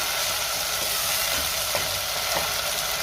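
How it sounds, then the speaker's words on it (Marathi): Tomato paste sautéing in hot oil, a continuous close sizzle and crackle that stays steady throughout, with faint scraping of a stirring spoon. "छान तेल सुटेपर्यंत मी टोमॅटोची पेस्ट परतून घेणार आहे"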